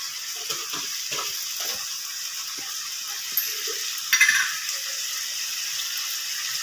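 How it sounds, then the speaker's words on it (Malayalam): Curry leaves, crushed chili and ground pepper stir-fry in a pan with a steady, soft sizzle, while a spoon scrapes the pan in scattered light strokes and gives a few sharper clinks partway through. "ഇനി ഇത് നമ്മൾ ഫ്രൈ ഒന്ന് മൂക്കുന്നവരെ ഇളക്കി കൊടുക്കാം"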